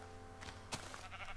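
A sheep bleats in the Minecraft video game, a short faint electronic baa from a game animal, heard over a low steady background hum.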